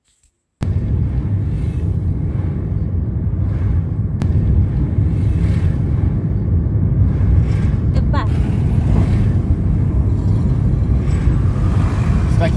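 Steady road traffic rumbles along a busy road on the Eastern Bypass, a continuous low roar of passing cars with wind buffeting the microphone, loud and close for the whole stretch.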